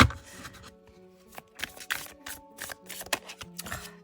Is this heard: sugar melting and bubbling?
no